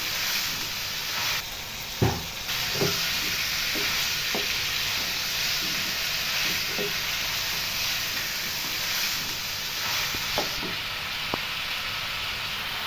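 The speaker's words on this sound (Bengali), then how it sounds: "মাংসগুলোকে একটু ভেজে নিচ্ছি।" Chicken pieces fry in a pan with ginger and garlic paste and browned onions, sizzling in a steady hiss broken by occasional pops and stirring clatter, with no talking.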